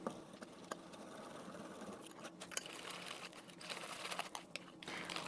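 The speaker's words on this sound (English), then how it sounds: "All right, let's whisk this a bit." Whisking a snack mixture in a bowl produces quiet, quick rhythmic clicking and tapping, a steady patter of strokes close by and faint.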